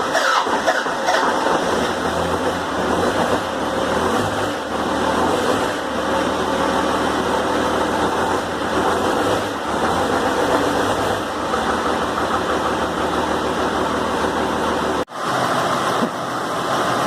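Cummins diesel engine in a home-built RV running after months of sitting, a loud, steady rumbling drone that holds evenly throughout with one brief dip near the end.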